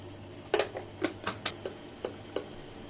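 Spices being stirred in a cooking pot while making muri ghonto with boal fish head and garlic: a series of sharp scraping clacks of a spoon against the pot, about eight spaced strokes, close and fairly quiet.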